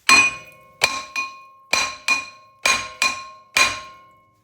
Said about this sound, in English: if you're gonna be replacing the rotor, then you can just hit here, get it break away from the rust.